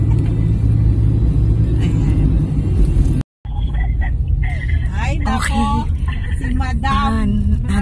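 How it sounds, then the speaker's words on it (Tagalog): A car being driven on a road, its engine rumbling steadily close up, with a brief dropout in the middle and people talking over the continuing motor noise afterward. "Ang galing na ni Grace mag-drive."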